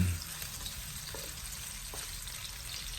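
Chopped onion frying in hot oil in a pan, a steady close sizzle with faint stirring scrapes, constant and even throughout, no talking.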